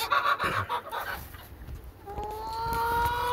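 Chickens cluck and murmur inside a coop, a few close bursts followed by softer calls and a longer drawn-out vocalization, with faint background noise.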